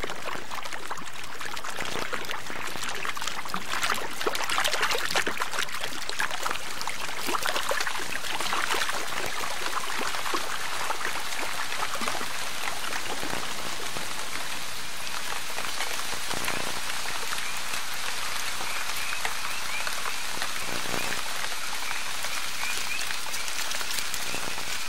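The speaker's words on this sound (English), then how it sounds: "The coming of the rains brought a chorus of calls to the nighttime forest." Heavy rain falls steadily on a nighttime Caribbean forest, a dense, continuous hiss of drops on leaves and ground that stays loud and even throughout with no voices.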